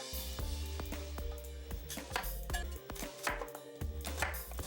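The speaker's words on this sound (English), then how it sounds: "Slice up half a cucumber" A knife slices half a cucumber into thin julienne strips on a cutting board in a Korean home-cooking kitchen, giving a quick, steady run of crisp chopping taps close by, with no talking.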